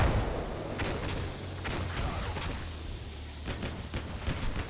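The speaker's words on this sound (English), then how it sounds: "that's obviously fire from a Bradley against the fleeing team" A Bradley's 25mm cannon firing at fleeing troops in Combat Mission Black Sea, heard as several short bursts of rapid sharp shots over a steady low rumble, moderately distant and without talk.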